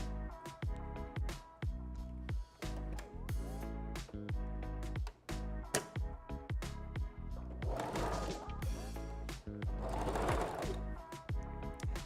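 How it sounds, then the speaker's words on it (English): Sewing machine back stitching a red ombre closure wig, with a close rapid mechanical whir broken into bursts by short pauses and restarts. "We're gonna stick this in. Make sure you do your back stitching."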